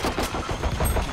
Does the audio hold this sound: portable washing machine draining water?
no